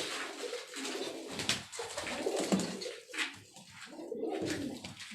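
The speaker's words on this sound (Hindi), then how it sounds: "और ये कबूतर आप, ये कलर इनमें बड़ा यूनिक होता है जी।" Pigeons coo from a rooftop loft in Karachi, soft repeated throaty calls rising and falling at close range with quiet gaps between them and no speech.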